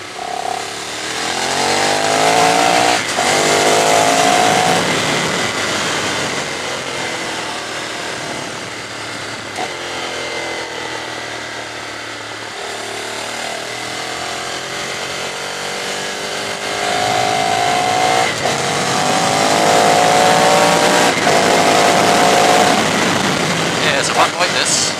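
Ducati 848 Streetfighter engine on a road test, held around 3,500 revs in second gear: a loud, choppy motorcycle drone with rising and falling revs, continuous through the run, with a voice talking over it.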